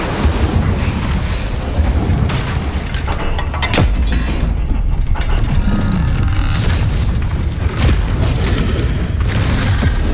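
A fire spell blasts out in Hogwarts Legacy, a loud continuous booming roar of flame and bursts with a sharp crack near four seconds, filling the whole stretch with dense game effects.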